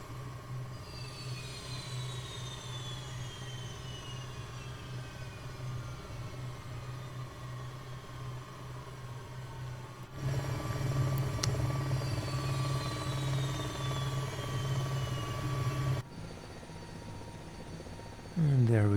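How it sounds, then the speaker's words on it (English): An Airbus H135 helicopter in a flight simulator powers down its engines, its turbine whine slowly falling in pitch beneath a steady rotor drone that shifts partway through, with someone talking over it. "we'll get the engines shut down"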